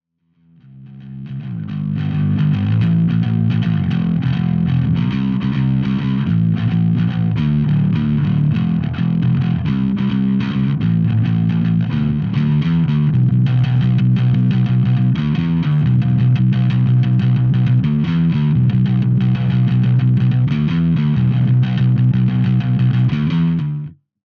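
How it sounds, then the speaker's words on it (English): A bass guitar through an overdrive pedal, on a Lakland 4401 into a GK amp mic'd with an SM58, plays a gritty, overdriven riff of repeated low notes, loud and sustained for over twenty seconds with no talking. "Next up is the overdrive for a bit of grit and dirt."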